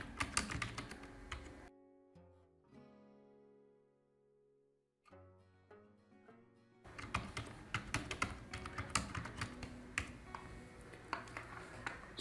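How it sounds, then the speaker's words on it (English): Someone types a column header into an Excel sheet on a computer keyboard, with close, quiet keystrokes in irregular bursts, a short lull in the middle, then a steadier, denser stretch of clicking. "Let's quickly type the header."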